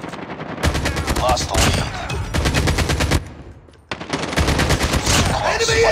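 Rapid bursts of automatic gunfire ring out during a Call of Duty match, several loud volleys separated by brief gaps, with the game's voice callouts heard between them.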